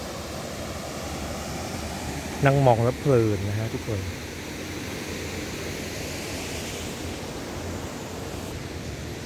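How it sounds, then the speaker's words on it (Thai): Steady broadband rush of a waterfall and flowing stream at a riverside lodge among durian trees, continuous and fairly loud throughout, with a voice talking briefly over it near the start. "เสียงน้ำตก"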